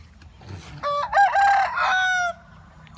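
A rooster crows loudly nearby in a chicken coop in the evening, one long drawn-out call, with faint chicken clucks and farmyard noise underneath.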